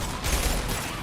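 Gunshot in Mass Effect 2, dense crackling fire with a couple of thumping low hits amid steady, loud combat noise, no one speaking.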